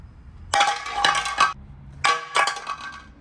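Two loud clattering impacts of a hard ceramic pot hitting the floor and rattling briefly before settling, with no sound of breaking.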